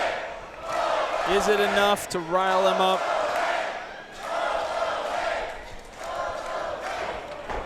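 Wrestling crowd at a Duke City Championship Wrestling event cheering for Hobo Hank, a steady roar of voices with a brief whistle-like cry rising in the middle while a commentator talks over it.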